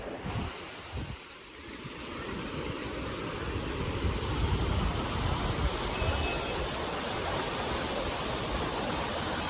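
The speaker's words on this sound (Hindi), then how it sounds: "ये सामने वाटरफॉल है और उसी का पानी आ रहा है, तो वाटर क्रॉसिंग बन गई एक तरह से।" Waterfall water rushing across a road crossing near the last Indian village on the China border, a loud, steady broadband roar that fills the whole clip with no talk.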